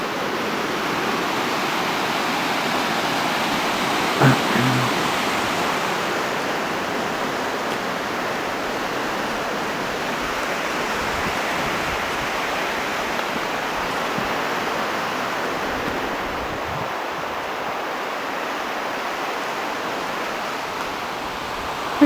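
Fast-flowing Salmon River rapids roar in a steady, dense wash of white water, loud and unbroken, with no voices over the rush.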